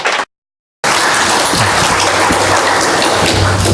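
Church congregation claps in encouragement for the choir, a loud, dense burst of applause that fills the room after a brief silent gap.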